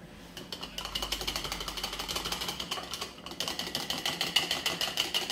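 Milk and oil are whisked together in a bowl for a pie crust, a fast, even rhythmic ticking and scraping close up, faint and steady without talk.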